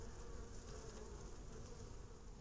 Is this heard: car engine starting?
no